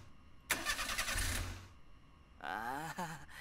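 A car engine in the horror RPG Maker game Mermaid Swamp cranks in a short burst that fails to catch, then after a pause gives a second whirring attempt that also dies, both heard alone.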